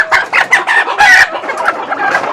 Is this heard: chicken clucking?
yes